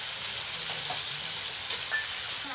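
Ginger paste fries in a pan for a cauliflower dish, giving a steady close sizzle with a few faint clinks of stirring.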